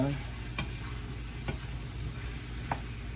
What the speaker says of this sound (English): I don't want to make too much noise stirring. And this is a metal pan, so I'll just use this